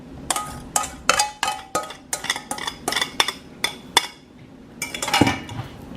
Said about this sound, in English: Now that I have this all whisked, I'm gonna dump all of this in here.